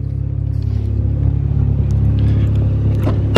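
A newly bought family car's engine running close by: a loud, steady low rumble that swells slightly toward the end, with no talking.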